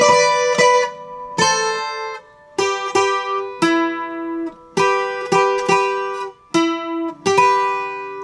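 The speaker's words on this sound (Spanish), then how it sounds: "Ok, so esa parte lento suena así." Requinto guitar playing a passage of a song slowly, a sequence of bright plucked notes and double-stops with short pauses, each ringing and decaying, close and solo.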